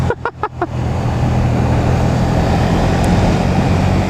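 A KTM 1290 Super Duke R 2017 motorcycle cruising in second gear, a steady low engine hum under heavy wind rush, preceded by a few brief mechanical clicks.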